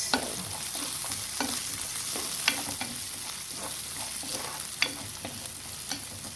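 Vegetables sizzle in a hot pan under a steady hiss, with frequent scraping and clacking as they are stirred and tossed.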